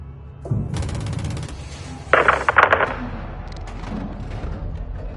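Bursts of automatic gunfire in the video game Modern Warfare, loud rapid rattling volleys in two main bursts with scattered shots between, aimed at a mortar crew, no talk heard.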